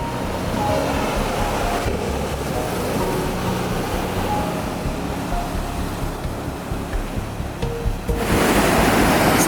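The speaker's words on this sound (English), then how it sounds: "the waves look pretty rough. You could probably surf on those actually." Ocean surf roars steadily as rough waves break on a beach on Portugal's Silver Coast, a broad rushing wash that swells louder toward the end.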